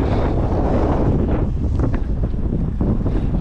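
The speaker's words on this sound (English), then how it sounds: "It's really windy." Strong wind roars across a microphone on a beach at a music festival on Fuerteventura, a loud, continuous rumbling buffet with gusty surges and no voices.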